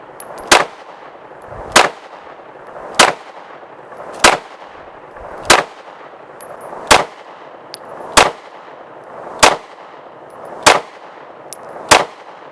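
Pistol shots from a Walther PDP and a Springfield Armory Echelon, about ten sharp, loud reports fired at a steady pace roughly one second apart, each followed by a short ringing decay, outdoors with no talking.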